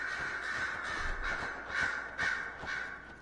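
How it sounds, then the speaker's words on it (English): Crows caw in Dragon Age Inquisition, a handful of harsh, repeated calls spaced across the moment over a quiet game ambience, moderately loud and with no talking. "Stinking ravens, crows, whatever you want to call yourselves. Get out of here."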